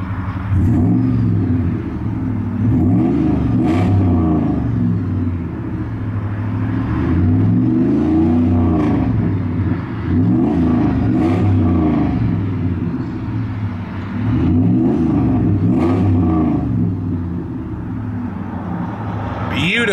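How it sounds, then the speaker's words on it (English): A 2003 Dodge Ram 1500 SLT Hemi V8 on regular unleaded revs repeatedly from idle, several loud swelling rises and falls of deep engine rumble close by. "Beautiful sounding engine."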